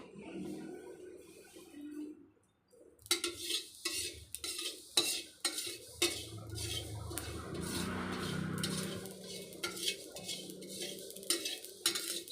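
Mustard seeds dry-roasting over low heat in a pan for a homemade spice mix, with steady scraping and stirring of a utensil against the pan, a few sharp clinks, and faint crackling throughout.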